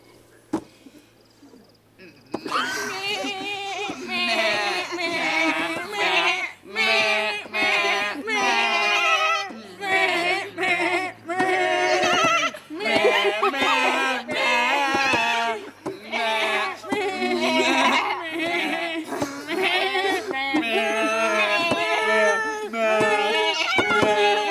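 Several people sing Mary Had a Little Lamb entirely in bleating goat-like voices, a continuous run of wavering, vibrato bleats in a tune, close and loud, with voices imitating goats throughout.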